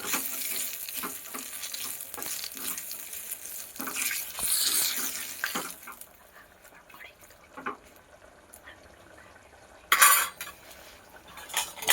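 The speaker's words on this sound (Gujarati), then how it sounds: "મીઠો લીમડો, લવિંગ, બાજરા અને મરચાં અને રાઈ જીરું આ રીતનું હલાવી નાખવાનું." Curry leaves, cloves, chilies, mustard and cumin seeds are stirred in a hot pot of tempering oil for Gujarati dal, sizzling loudly at first, then quieter scrapes, clinks and a sharp clatter of the spoon against the metal pot.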